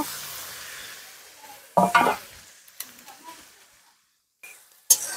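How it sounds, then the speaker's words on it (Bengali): Sliced onions lightly frying in a pan with whole garlic and cumin, giving a few bursts of stirring scrape and sizzle separated by near silence, with faint voice in the background. "কেটে রাখা পেঁয়াজ। পেঁয়াজটা হালকা ভেজে নেব।"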